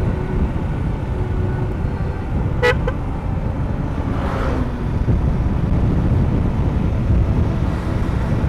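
Highway traffic passes around a motorbike on the road from Khulna, heard as steady wind-buffeted engine and road roar, with one short horn toot near the middle and a vehicle sweeping by soon after.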